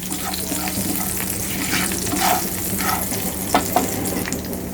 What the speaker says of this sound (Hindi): इन सारी चीज़ों को ऑयल में अच्छे से फ्राई करूँगी।